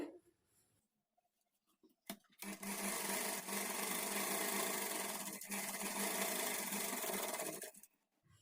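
A sewing machine stitches along a blouse edge in one steady, whirring run of about five seconds, close and loud, after a couple of brief clicks and a short start.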